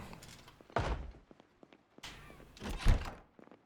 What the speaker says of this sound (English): You can hear, by the way, that there's only one zombie banging on the door currently.